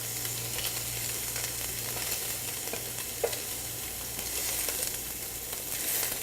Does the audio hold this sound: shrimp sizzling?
yes